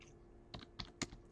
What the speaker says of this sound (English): So you might consider typing GitHub